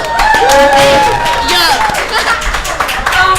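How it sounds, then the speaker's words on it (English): Loud clapping and cheering from an audience for a girls' sports team, sustained for a few seconds, with voices talking over the applause. "A big round of applause for these girls right here"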